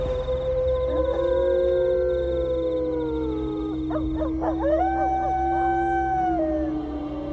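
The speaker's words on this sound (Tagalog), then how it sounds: "Bigla akong nataranta ng marinig ang sunod-sunod na alulong ng aswang, Madam Venus." Howling of an aswang in a rural Capiz village setting, rendered as a sound effect: several long, overlapping wolf-like howls rising and falling in pitch, loud and close, over a low steady rumble.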